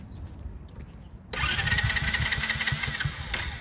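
A Harley-Davidson motorcycle fitted with a small air cleaner cranks over and fires up, settling into a loud, close, lumpy idle.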